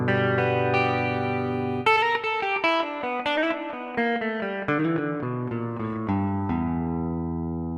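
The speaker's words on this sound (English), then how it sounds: "Here's open strings." Electric Blue virtual guitar on its open strings preset, playing a bright run of ringing plucked notes and chords that overlap and sustain, moving through a quick melodic phrase with no talking.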